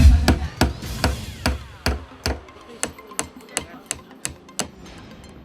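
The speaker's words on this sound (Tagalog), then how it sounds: "martilyo ug lansang una ang gigunitan" Steady hammering of nails into a boat icebox under repair, a dozen or so sharp, evenly spaced blows ringing close and loud with no talk.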